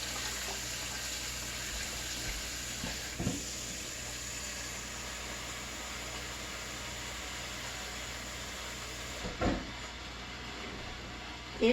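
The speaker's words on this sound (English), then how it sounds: "hot water from the faucet on" Hot water pours steadily from a kitchen faucet into a pot, a constant close hiss and splash with a couple of brief knocks partway through.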